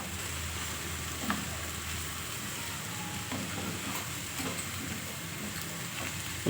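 Grated coconut fries in a pan with puffed rice chitranna, giving a steady, fairly quiet sizzle with a few faint stirring scrapes and no talking.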